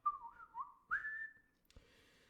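A lone human whistle sounds at night, a sustained wavering note that rises and holds before stopping, faint and somewhat distant, followed by a soft knock.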